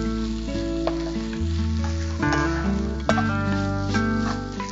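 Bitter gourd curry simmers while drumstick leaves sauté in a pan, making a dense, continuous sizzle with stirring scrapes, close and fairly loud over steady tonal background sound.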